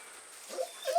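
A frightened stray dog gives a few soft, high whimpers near the end, brief rising whines over quiet background.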